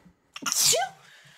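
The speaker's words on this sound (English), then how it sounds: "That was an adorable sneeze." One close, sharp sneeze, a quick intake followed by a bright burst of breath, heard alone against a quiet room.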